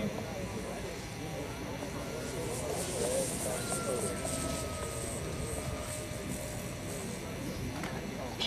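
A 40-inch-wingspan RC model airplane makes a touch and go at an outdoor flying demonstration, its thin motor whine faint and distant beneath steady wind noise and background voices.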